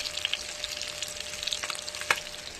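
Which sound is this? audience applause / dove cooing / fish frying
fish frying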